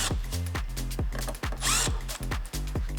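A power driver spins out T20 Torx screws from the heatsink on a BMW M2 F87 LCI headlight, giving close, loud repeated whirring bursts with short pauses and small rattles between them.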